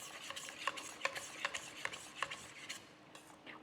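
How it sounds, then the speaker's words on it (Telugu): Wheat flour kheer is stirred in a pot to keep lumps from forming, a quiet, soft rhythm of spoon strokes and scrapes repeating about twice a second, then ending with a brief louder knock. "ఉండలు కట్టుకోకుండా నీట్గా కలుపుకుందాం."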